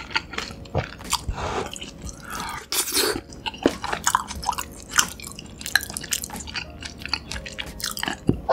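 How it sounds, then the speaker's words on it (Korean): Close, wet chewing of kielbasa sausage dipped in cheddar cheese sauce, with soft squishy bites and smacking in an irregular rhythm and no talking. "킬바 소시지는 요 체다 치즈소스 찍어서 먹어볼게요."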